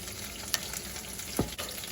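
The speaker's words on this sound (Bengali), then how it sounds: "আমি এপাশে বড়িগুলো ভেজে নেব" Lentil dumplings (bori) fry in hot oil for a fish tok, giving a steady close broadband sizzle with two brief sharper pops or stirs, no voices.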